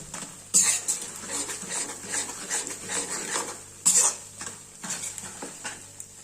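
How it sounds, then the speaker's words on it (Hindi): A khoya and gond mixture gets stirred in a pan, a spoon scraping and clinking against metal in uneven strokes with a couple of sharper knocks, close and fairly quiet. "इस स्टेज पर आपको कम से कम 1 से 2 मिनट के लिए लगातार चलाना है"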